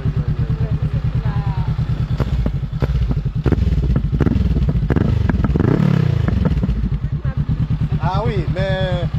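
A Honda CB500 motorcycle engine idles with a steady low pulse and revs up nearby, with people talking over it throughout.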